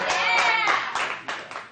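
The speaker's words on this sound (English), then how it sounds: "Can I just get a small clap for the beach water park?" A small audience claps briefly, loud at first and then thinning into a few scattered claps that fade out over under two seconds.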